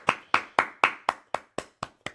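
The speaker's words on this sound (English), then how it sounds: "Applaud Derek." Hand claps ring out in a steady series of about nine sharp, evenly spaced beats, bright and close, each fading quickly, with no talk.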